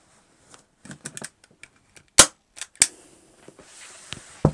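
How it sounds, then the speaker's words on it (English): A staple gun fires staples around the edge of a sewing project, with sharp isolated snaps, two of them louder, among faint light taps and handling noise. "you staple it all the way around"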